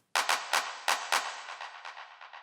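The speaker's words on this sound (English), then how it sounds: "And I've got this clap fill adding like a bit of a turnaround every 8 bars." Electronic clap fill in a music track, a quick run of sharp bright claps with a stuttering rhythm, loud at first and then trailing off into quieter, fading repeats, with no voices.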